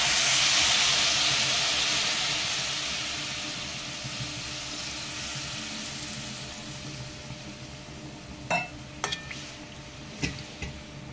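Water hits a hot pan of frying ridge gourd and bursts into a loud, rushing steam hiss that slowly fades to a quieter simmer, followed by a few sharp clinks of a utensil.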